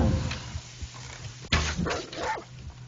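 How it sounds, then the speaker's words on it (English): Dog barking in Guild Wars 2 combat: a few sharp barks and yips cluster midway, cutting through a low game rumble and scattered battle noise, with no speech. "Kill that damn dog."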